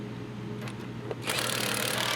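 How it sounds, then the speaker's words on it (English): An impact wrench with an 18mm socket tightening sway bar end link nuts on a Ford Fusion: a short quiet lead-in, then a dense whirring, rattling burst that runs to the end. "Now tighten them with the 18mm socket and impact."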